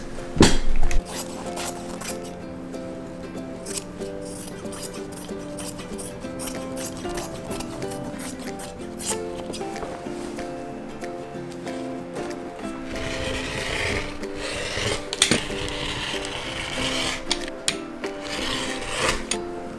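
Fabric being cut out into garment pattern pieces for sewing a top with a peplum, steady rasping and rubbing of blades and cloth across a table, with background music running underneath throughout.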